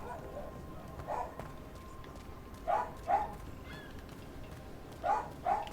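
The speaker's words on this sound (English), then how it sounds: "So if you can hear dogs, guys." Dogs bark in the Dragon Age: Veilguard video game, faint and distant, in two pairs of quick yelps over a quiet ambient background.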